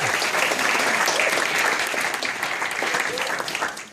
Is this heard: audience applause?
yes